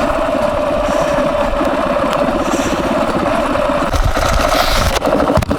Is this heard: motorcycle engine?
yes